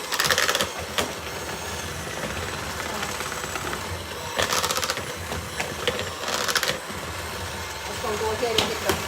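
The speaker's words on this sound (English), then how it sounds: "I got my other mixer, my big mixer." A big electric stand mixer runs steadily while whipping ingredients for an Italian cream cake, a continuous motor whir with louder bursts, heard close under occasional kitchen talk.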